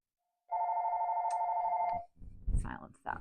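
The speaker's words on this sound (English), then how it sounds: "Silence that phone really quick." A telephone rings once in a steady electronic trill lasting about a second and a half, loud and close, then a person starts talking right after it stops.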